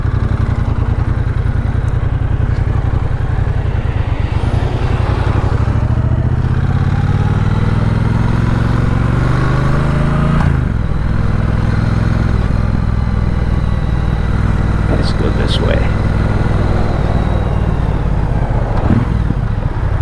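A Triumph Bobber Icon motorcycle being ridden, its engine loud and close, revving up through gears with rising and falling pitch sweeps and brief shifts, steady throughout with no speech.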